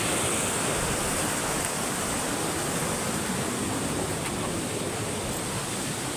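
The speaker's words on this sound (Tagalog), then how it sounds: "Malapit na tayo sa falls." Rushing water near a waterfall, a loud, steady broadband roar filling the whole stretch with no pauses and no voices.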